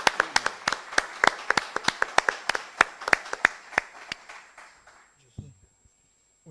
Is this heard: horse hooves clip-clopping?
no